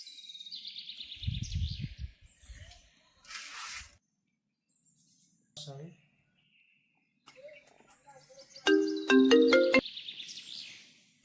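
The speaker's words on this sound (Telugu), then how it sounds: "అన్నకు ఒకసారి కాల్ చేసి చూద్దాం, లిఫ్ట్ చేస్తారా మరి." A phone call's ringing tone sounds in several bursts, including a bright repeated ringtone near the end, with brief voices and gaps of quiet between.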